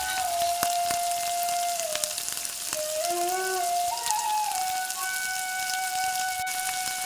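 Chicken pakoras fry in a wok of hot oil, giving a steady, even sizzling hiss with faint whistling tones running through it.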